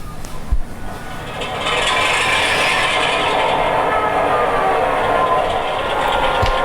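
A model railroad locomotive, number 9185, starts its engine through its sound decoder, a short click followed by a steady, continuous diesel-like engine rumble that settles into an even idle.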